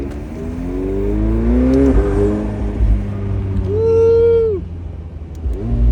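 A straight-piped McLaren 720S engine revs loudly from inside the car while driving, climbing and dropping in pitch as it accelerates and shifts, with a brief whoop from an occupant.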